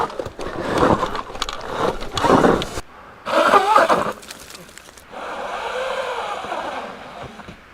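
A Sur Ron electric dirt bike at full throttle on a steep hillside trail gives a steady whirring whine near the end, after bursts of rough, scraping motion and wind noise.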